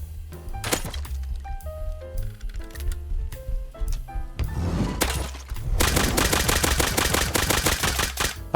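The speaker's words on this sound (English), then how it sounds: "After making the nail gun, this gave me a bit of extra firepower to take down bears, animals a bit easier." Nail gun firing in the Rust video game, a busy string of rapid mechanical shots and thunks over game music and effects, building to a dense continuous burst of fire near the end.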